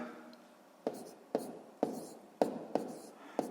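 A pen or pencil writes numbers by hand on paper for a sixth-grade multiplication exercise, with six short, sharp strokes at a steady pace, close and quiet, with faint breathing between them.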